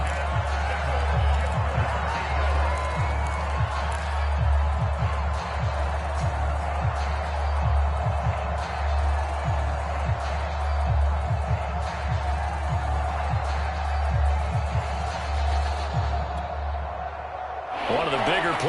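An American football stadium crowd at a Washington versus Cowboys game keeps up a continuous broad roar and murmur, building before a big third down, while a commentator talks over it; a few sharp thumps cut through near the end.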